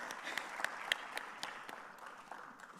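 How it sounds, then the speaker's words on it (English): A conference audience gives Professor Eric Dankwa a round of applause at an African agricultural biotechnology meeting, moderate clapping heard from a distance that slowly thins out toward the end. "Can we give him a hand of applause?"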